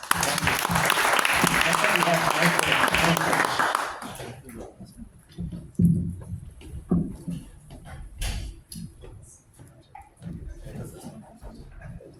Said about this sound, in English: let's give Sri a round of applause